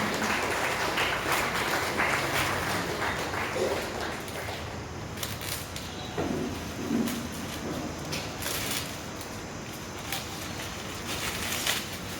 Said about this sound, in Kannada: ಎಲ್ಲರೂ ಚಪ್ಪಾಳೆ ಮೂಲಕ ಅಭಿನಂದಿಸಬೇಕು